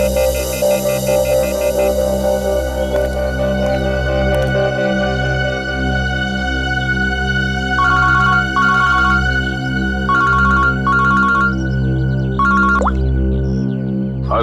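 A phone rings with repeated electronic ringtone bursts in the second half, set over a sustained low droning background score in a TV crime drama scene.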